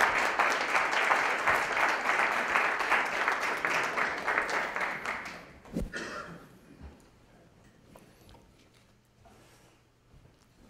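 An audience applauds steadily for several seconds to welcome Gerald to a campus gathering, the dense clapping fading out around the sixth second into quiet room sounds.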